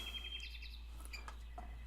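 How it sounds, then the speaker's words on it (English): Birds chirp and tweet outdoors in a pleasant open setting, a quick series of light, high calls that stay faint and fairly distant over a steady low background hum, with no talking. "Hello, birds."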